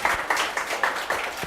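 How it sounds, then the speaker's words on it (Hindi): Brief, light clapping from a small group greets a student's CUET-ICAR 2025 selection, a few uneven claps repeating over a second or so. "बहुत अच्छी मेहनत करी, बच्चे के लिए तालियां भाई"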